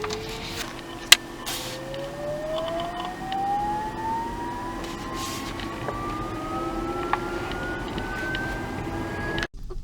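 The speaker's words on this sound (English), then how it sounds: "the electric engine whine is quite prominent" Inside an electric car pulling away, a thin motor whine rises steadily in pitch over a low road rumble, with a couple of small knocks and no talking.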